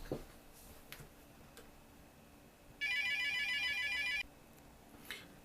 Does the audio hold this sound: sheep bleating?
no